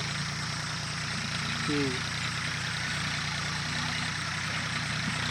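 A tractor tilling soil in a farm field runs with a steady low engine drone throughout, heard at moderate distance and fairly faint.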